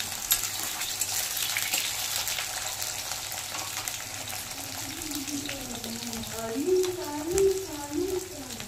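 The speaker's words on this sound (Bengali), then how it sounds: "আলু আর রাঙা আলু একসাথে সুন্দর করে লালচে করে ভেজে নিচ্ছি" Potatoes and sweet potatoes fry together in hot oil for a vegetarian shukto, giving a steady, close sizzle and crackle while someone talks over it.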